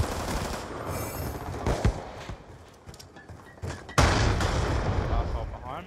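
Automatic rifle fire with extended magazines in Black Ops II multiplayer, trigger held down in sustained bursts with sharp louder shots near the two- and four-second marks, under a steady wash of battle noise.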